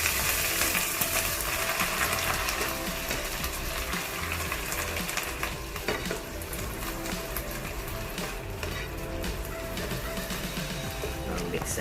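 Meat and vegetables for Yangzhou fried rice sizzle and hiss steadily in a hot pan as they are stir-fried, a dense, continuous frying sound with scraping and tossing throughout.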